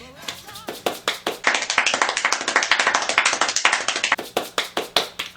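Extremely rapid hand clapping, a dense blur of sharp claps rattling along in a near-continuous rhythm for several seconds, loud and close, with short bursts at the start and end and no talk over it.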